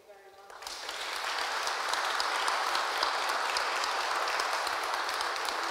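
A conference audience bursts into applause after a brief spoken moment, the clapping swelling within a second into a dense, sustained roar of many hands that holds steady to the end.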